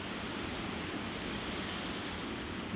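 Fast, flood-swollen water rushes steadily past in Kretinga, Lithuania, a dense, unbroken roar that stays close and loud from start to finish with no voices.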